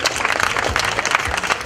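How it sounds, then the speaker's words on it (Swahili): Audience applause at a stand-up comedy show, a dense, continuous wash of clapping from a crowd, loud and steady throughout, with faint voices mixed in. "Jamani naomba tuwapigie makofi mengi sana."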